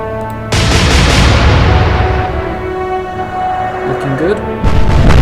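Warship guns in the naval game Atlantic Fleet fire as a sudden loud blast that rolls into a long, dense rumble and holds for several seconds, with a second burst near the end.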